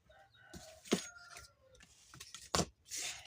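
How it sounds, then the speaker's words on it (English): A rooster crows with a harsh, hollow, tinny tone, short bursts rising and falling against other fowl calling nearby. "Old Francois, he's got a very unique crow. He sounds like he's crowing in a tin can."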